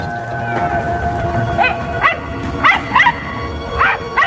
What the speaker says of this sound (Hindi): जहां से पॉमी के भौंकने की आवाज आ रही थी।